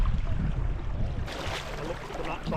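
Canoe crossing a Scottish loch on a long river trip, with low, soft water and paddle wash under steady wind noise, brighter and hissier after about a second.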